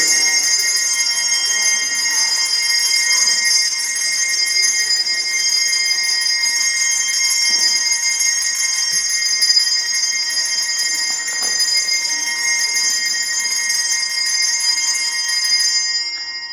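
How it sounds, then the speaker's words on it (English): Tower bells ring on and on, a steady, loud, shimmering peal that sustains without pause throughout, with no voices over it. "The bells rang constantly"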